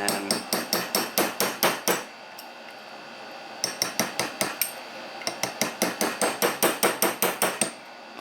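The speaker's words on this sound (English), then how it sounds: "I'm going to end up putting a punch right into there to knock this thread loose" Steady metal-on-metal hammer blows drive a punch against a threaded part of a Honda Z50 Mini Trail springer front fork, struck in three quick rhythmic bursts of about eight to ten sharp, ringing hits each, loud and close, with short pauses between.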